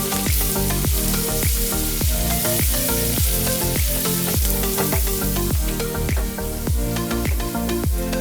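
Sliced onions fry in a pan with browned garlic and chilli flakes, giving a loud, constant sizzle broken by regular clicking stirs or scrapes. No one speaks.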